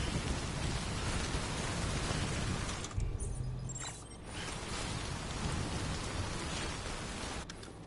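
Steady, dense video-game timefall rain hisses in Death Stranding, loud and continuous, broken by a short dip before the downpour resumes at full strength.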